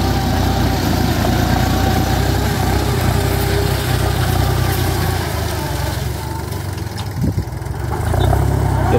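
An ISEKI 35 tractor plowing soil, its engine running loud and steady with a low, throbbing chug, a brief dip in the middle before the rumble returns at full strength, and no voices.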